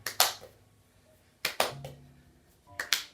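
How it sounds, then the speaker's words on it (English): Hands clap twice in quick pairs between tosses during a seated ball exercise in a chair. Three bursts of two close, crisp claps each are separated by short quiet gaps. They sound near, with no talking. "Try a double clap."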